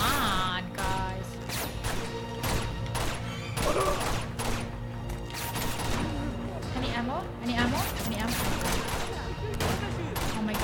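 Dense gunfire rattles through a firefight in the video game Uncharted 2, rapid bursts mixed with heavy shotgun blasts and crashes, loud and continuous, while a player talks over the shooting.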